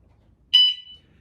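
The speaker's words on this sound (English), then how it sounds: "this has also got an alarm on it as well. So if I set this like this, it's going to beep" A single short, high electronic beep chirps once from an electric bike's alarm in otherwise near silence.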